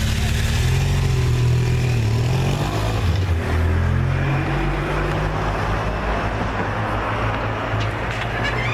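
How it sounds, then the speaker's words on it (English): Motorcycles rumble past on a city street, a loud, continuous engine drone close by with shifting pitch as they pass, while a voice speaks briefly beneath the traffic noise. "Ooh, nice bikes."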